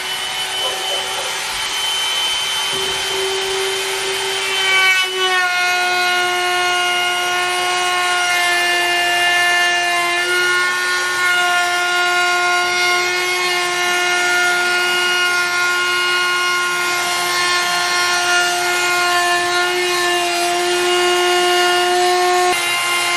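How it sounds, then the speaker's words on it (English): A trim router fitted with a 1/4-inch round-over bit cuts along the top edges of wooden ribs for a cable rail system. It makes a loud, steady, high motor whine that holds at a constant pitch for over twenty seconds. "now I'm going to do using a trim router, 1/4 inch round over bit, rounding over the top edges"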